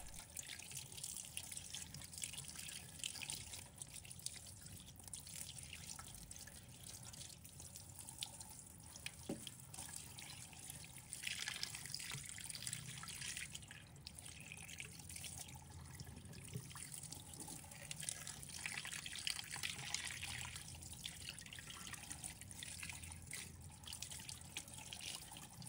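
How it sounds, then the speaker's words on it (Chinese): A pomfret fish being rinsed under running tap water in a kitchen: a soft, steady stream of water with faint splashes and handling sounds, fairly quiet throughout. "再把它放入流动水中清洗干净。"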